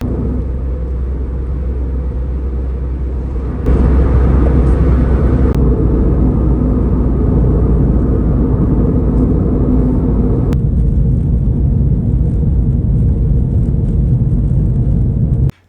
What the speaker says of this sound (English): in Texas areas, the roads are often paved with chip seal, which makes the roads a bit noisy